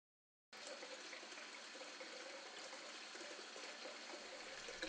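Tap water runs steadily from a faucet, a continuous broadband gush starting after a brief silence and holding at an even level throughout, with no voices.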